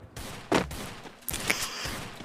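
Gunfire in a 3v3 custom match of a multiplayer shooter video game: short, loud sharp shots and bursts at irregular intervals with no talking.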